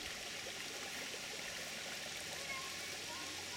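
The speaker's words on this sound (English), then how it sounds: "You can see it bubbling up. It's coming out right there. And going down to the little creek." Natural spring water bubbling up out of the ground and trickling down into a small creek in a park nature preserve, a steady, soft, continuous flow heard at moderate distance throughout.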